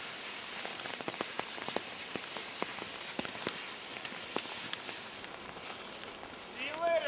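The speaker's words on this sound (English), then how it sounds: "It was pouring rain, wet snow." Pouring rain mixed with wet snow patters steadily on a skiing expedition, with dense close drops and a brief voice near the end.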